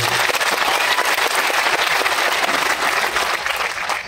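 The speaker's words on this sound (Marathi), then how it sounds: "शेवटचे मोठी टाळी मोदीजींच्यासाठी वाटलं" Dense crowd applause at a political rally in Mhaswad for BJP and Modi, loud and continuous throughout with no voice over it, easing slightly near the end.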